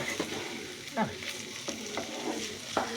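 Green peas frying in oil in a pan for Bengali ghugni, a steady sizzle broken by repeated scraping stirs of a spatula, close and moderately loud, with no talk.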